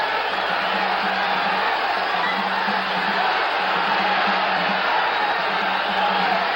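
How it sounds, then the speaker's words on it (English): Boxing arena crowd during a ninth-round bout, a dense steady roar of cheering and shouting that holds at a constant level throughout, with no distinct individual voices standing out. "The crowd picks up"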